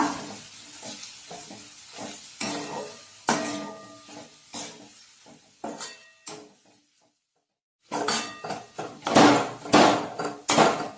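A spoon stirring masala dosa potato filling with salt in a pan, with irregular scraping clinks and knocks against the metal between quiet gaps, close by, a brief silent pause midway, then busier stirring with a light sizzle underneath.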